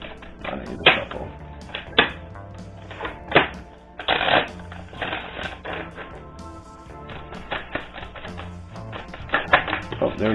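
Cards riffle and shuffle in repeated bursts of crisp, papery flicks, close and fairly loud, with soft handling noises between them.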